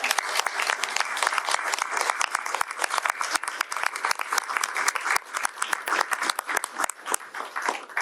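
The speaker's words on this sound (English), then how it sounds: "Round of applause." A crowd at a governor's bill signing applauds, a steady, fairly loud patter of many hands clapping with individual sharp claps standing out, continuing evenly for several seconds with little talk.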